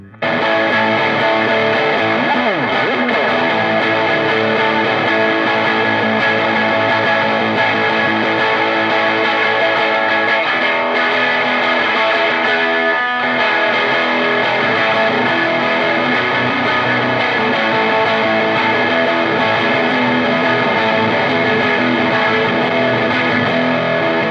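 A guitar drive pedal with bass and treble controls, set here to heavy overdrive, carries a thick, sustained distorted guitar tone that plays loudly and continuously for the whole stretch, with only a brief dip midway.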